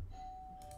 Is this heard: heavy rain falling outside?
no